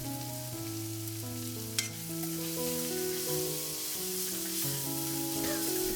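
Onions, garlic, ginger, curry leaves and green chilies sizzle and spit steadily in hot oil in a pan, a continuous crackling fry with a tonal melody playing over it.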